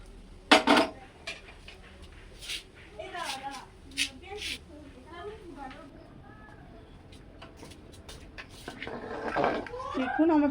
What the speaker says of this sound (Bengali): এবার আমি হাঁড়িটাকে এখানে দিয়ে বড় গ্যাসটায় দিয়ে তাড়াতাড়ি ফুটিয়ে নেব।